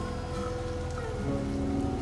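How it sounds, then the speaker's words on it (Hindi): Heavy rain pouring down as a steady dense hiss of drops, continuous and close with no pauses. "ये बारिश थमने का नाम नहीं ले रही।"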